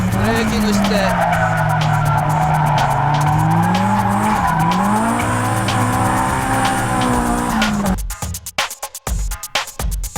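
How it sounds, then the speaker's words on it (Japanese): A race car slams on its brakes and swings into a drift, engine howling and tires skidding in a long loud squeal for about eight seconds, then it cuts to scattered clicks, with talk underneath. "This is where he slams on the brakes, then swings the car around to shift the weight of the car to the rear."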